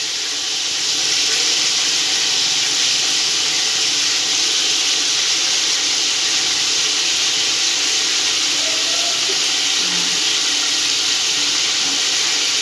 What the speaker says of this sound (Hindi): अब ये फ्राई हो रहा है